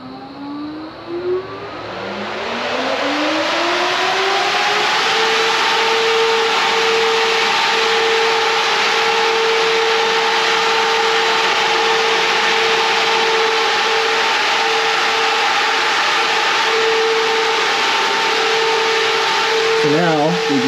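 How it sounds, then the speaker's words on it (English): Brushless dual radiator fans on an LS-swapped Nissan 350Z spin up with a rising whine over a couple of seconds, then settle into a loud, steady whirring hum with a constant tonal drone and airy rush. "Theoretically, these fans should kick on."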